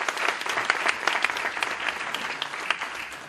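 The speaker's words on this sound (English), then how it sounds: "Give him a big round of applause." An audience at a Crohn's and colitis support event in Crown Heights gives a round of applause, with a brisk, uneven patter of many hands clapping at close range throughout, with no voices.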